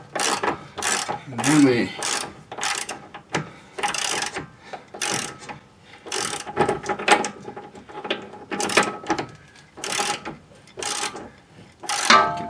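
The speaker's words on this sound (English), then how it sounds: "Get the wrench on there. Now we're going to cinch her up." Ratcheting wrench tightening a car's toe link, a series of quick clicking ratchet bursts repeated at a brisk, uneven pace, close up, with a brief voice between strokes.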